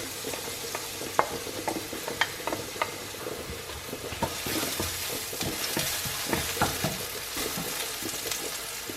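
Hot frying pan sizzling steadily while cooking, a continuous hiss with scattered crackles and spatters that grows brighter and busier halfway through, heard alone without talk.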